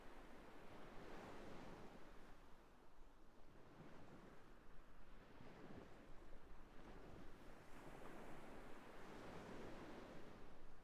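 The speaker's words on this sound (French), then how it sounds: "Écouter le son des vagues" Ocean surf washes onto a beach in soft, rolling surges, distant and faint, with low wind rumble over the microphone throughout.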